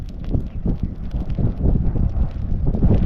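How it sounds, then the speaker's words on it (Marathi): Strong wind outdoors near a field fire, buffeting the microphone in loud, low rumbling gusts that continue throughout. "चला वारं लय वारं सुटलंय."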